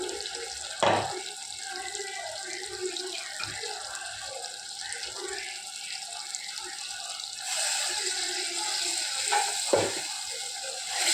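Water poured into ground masala in a cooking pan, heard as a running, splashing trickle with a few sharp clinks of utensils, fairly close, with no voice over it.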